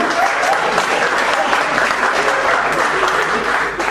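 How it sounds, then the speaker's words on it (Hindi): A hall full of engineers claps loudly and continuously, a thick, even wash of applause from a large crowd with no pause. "इंजीनियरों जरा ज्यादा तालियां बजा दीजिए"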